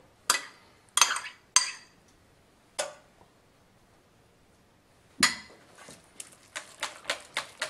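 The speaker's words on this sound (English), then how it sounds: "Mix everything lightly." Ricotta cheese and a drizzle of olive oil mixed lightly in a bowl, heard as sparse, sharp clinks and taps of a utensil against the bowl, a few isolated strikes followed by a quicker run of light knocks, close and fairly quiet.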